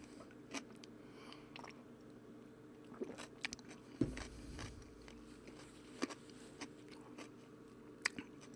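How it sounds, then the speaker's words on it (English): Quiet, close crunching bites and chewing of a raw carrot, with scattered sharp crisp snaps over a low background hum. "I'm eating a carrot"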